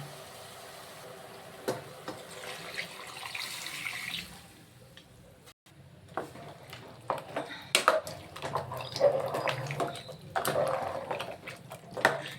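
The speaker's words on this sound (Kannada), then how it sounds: "ಈಗ ನೀರು ಎಷ್ಟು ಬೇಕಷ್ಟು ಮಿಕ್ಸ್ ಮಾಡೋಣ" Water is poured into a pot of sambar with lentils, ground coconut and sambar powder, giving a soft, irregular splashing and trickling, with intermittent knocks and clatter.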